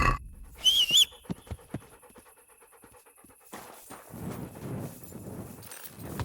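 A horse in the medieval game Kingdom Come: Deliverance moves with soft, irregular hoofbeats and breathy snorting, opening with a brief high squeal and growing busier and noisier toward the end.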